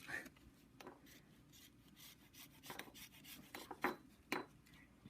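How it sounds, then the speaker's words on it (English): A citrus zester scraped across a lemon in the kitchen, soft irregular rasping strokes, faint and close, with a few brighter scrapes near the end. "And that's all you do to zest it."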